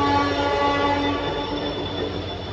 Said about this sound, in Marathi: फायनली आमची ट्रेन आलेली आहे